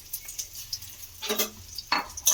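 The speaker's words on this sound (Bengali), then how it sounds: "এবারে সয়াবিন ডিম সব কিছু একসঙ্গে এইভাবে আমি খুব ভালো করে ভেজে নেব" Soya chunks and eggs frying together in a pan on lowered gas produce short bursts of sizzling and stirring scrapes, louder toward the end, with quiet gaps between.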